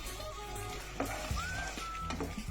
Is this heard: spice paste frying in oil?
yes